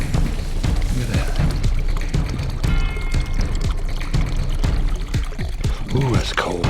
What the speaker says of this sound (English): It's just like an artesian well, and it's coming out under some pressure.